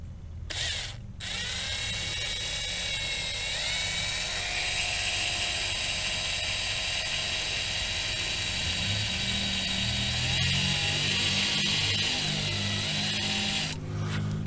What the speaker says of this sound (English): Try one of the smallest bits I've got in this drill set here.